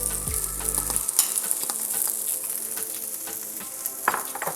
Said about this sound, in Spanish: voy a poner mi repollo a dorar junto con la cebolla